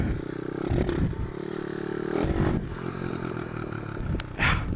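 A pit bike engine revs in first gear during wheelie attempts: a steady, loud, close drone that rises in surges, with clattering and scraping bursts mixed in and no speech.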